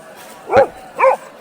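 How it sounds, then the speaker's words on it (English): An elderly dog gives two short, clear barks about half a second apart, close and fairly loud over a quiet background. "My elderly dog still gets a bark out now and then"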